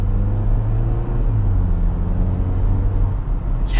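A 2024 Jeep Wrangler Sport engine drones steadily while driving, a loud close low hum with road rumble, holding an even pitch throughout with no talking.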